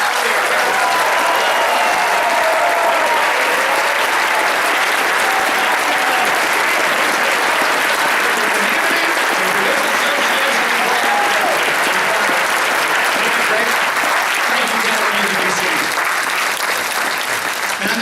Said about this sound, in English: Let's give him a cheer back.